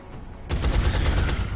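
A heavy cannon fires in the turn-based strategy game XCOM: Long War, one sudden loud blast at about half a second followed by a dense rumbling barrage.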